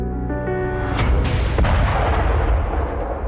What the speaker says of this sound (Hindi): टैंकों से गोले बरसाए, तोपों से तबाही मचाई